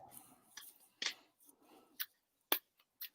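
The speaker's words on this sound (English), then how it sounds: "I'm going to shuffle the cards" Tarot cards being shuffled by hand, a series of short papery riffles and snaps recurring about every half second, close and fairly quiet with no talking.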